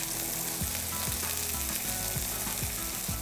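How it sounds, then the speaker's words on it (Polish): Food sizzles steadily in a hot pot while something is stirred through it, with a continuous crackling hiss and soft scraping. "I całość ląduje w garnku. Zamieszamy."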